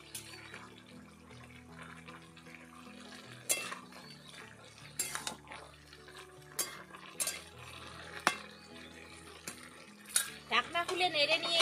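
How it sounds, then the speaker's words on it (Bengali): A utensil stirs jackfruit and potatoes in a pot. Irregular metallic clinks and scrapes are heard against the rim, close and fairly loud, and they quicken into a rapid clatter near the end. "একটু নেড়ে নিচ্ছি।"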